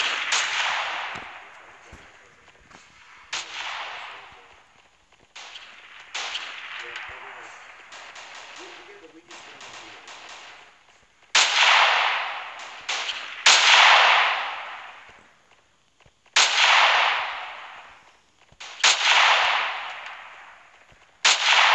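Sniper rifle shots in the mobile shooter Standoff, several sharp cracks spaced seconds apart with fading tails, interleaved with a person talking between and over the shots.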